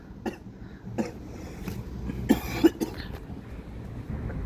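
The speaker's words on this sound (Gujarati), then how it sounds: "આ ભાઈના શરદી થઈ ગઈ છે ખો ખો કરે ક્યારનો" A man with a cold coughs outdoors in a village, several short, sharp coughs spaced irregularly over a faint breezy background, with no talking.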